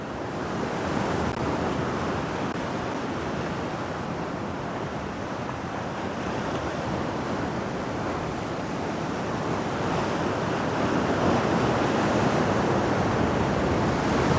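Ocean waves breaking along the coast, a steady, loud roar of surf with constant wash and wind noise and no distinct pauses, heard alone without voices.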